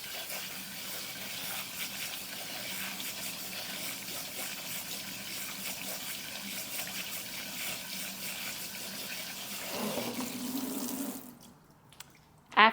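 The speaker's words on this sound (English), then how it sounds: "So the first thing it does say to do is rinse your rice." Running water from a kitchen sink tap, rinsing rice before it goes into a microwave rice cooker; a steady, close hiss of flowing water that stops near the end, followed by a brief clatter.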